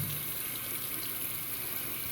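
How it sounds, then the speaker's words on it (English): A makeup sponge is rinsed under a running tap, a steady hiss of flowing water with no pauses. "But I do a mixture of rubbing it on my hand and rubbing it under the water."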